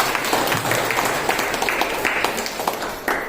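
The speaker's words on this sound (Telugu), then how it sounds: "అమ్మకు ఒకసారి క్లాప్స్ కొట్టండి అందరూ." An audience at a spiritual gathering breaks into applause, a dense, steady patter of many hands clapping together throughout, with scattered louder claps standing out.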